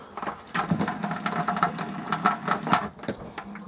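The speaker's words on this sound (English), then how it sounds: "This is the hot tap," Water running from the hot tap into the sink of a 2004 Elddis Avante five-berth caravan, a close, steady splashing stream with fluctuating gurgles throughout.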